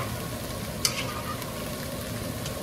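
Beef sautéing in a pan for kare kare, a steady close sizzle with a brief clink of a utensil near the start, then an even frying hiss with no talking.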